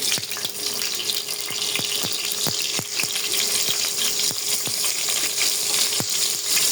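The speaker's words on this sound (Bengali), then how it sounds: "এদিকে কড়াই দিয়ে দিছি, আর এই যে পটলগুলো ভাজি করে নেব।" Pointed gourd (potol) slices fry in a wok, a steady bright sizzle punctuated by regular sharp clicks and scrapes of a spatula against the pan.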